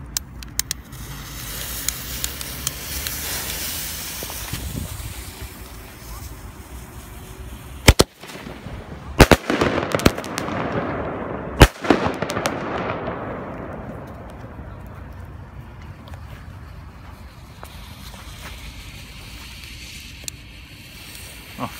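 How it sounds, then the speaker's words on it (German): Thunder Kong ultra smoke pot and flashbang firework set off outdoors on New Year's Eve, a steady hissing rush of smoke broken by several sharp, loud bangs near the middle. "Thunder Kong Smoke, ein Ultra-Rauchtopf und Flashbang."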